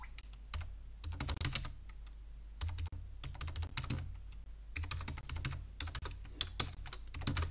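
Linux commands typed on a computer keyboard, a steady run of close, crisp keystrokes in quick bursts with brief pauses between, with no voice.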